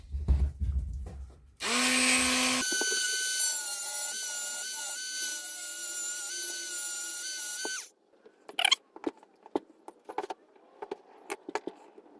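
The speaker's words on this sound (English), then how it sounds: "We need to cut these two with Dremel and drill that one out." A high-pitched Dremel rotary tool cutting and drilling on a Shimano Ultegra 6870 rear derailleur spins up and whines steadily for several seconds, then stops, followed by scattered clicks and small metallic handling sounds.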